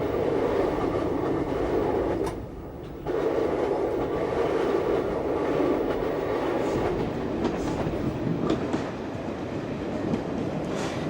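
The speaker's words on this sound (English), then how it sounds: "recorded one of the first cab rides in a DMU, as they were now officially called" A diesel multiple unit railcar running between Newcastle and Carlisle, heard from the driver's cab as a continuous rumbling engine and wheel roar with a brief dip in level partway through, no voices.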